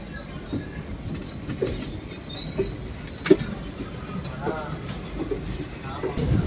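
A passenger train rolls into Nagercoil Junction with a steady rumble of wheels on rail, faint clicks and occasional squeals from the carriages over continuous noise, heard from inside the coach while someone talks.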